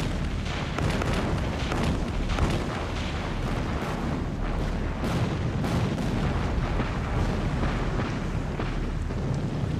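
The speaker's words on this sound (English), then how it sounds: "At 1:36 a.m., they opened fire." Warships opening fire in a night naval battle, a dense continuous rumble of heavy booming gunfire and blasts, loud and sustained throughout.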